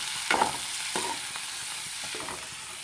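Prawns frying with chopped onion and split green chilli in a pan, a steady close sizzle broken by a few scraping stirs, with no talk.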